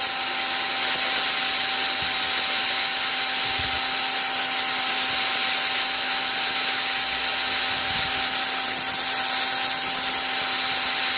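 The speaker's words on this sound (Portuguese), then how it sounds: "Estou usando aqui a lixa 100." Wood being sanded by hand with 100-grit sandpaper while shaping a small wooden bird call, a steady, close rubbing hiss that runs unbroken throughout with no voices.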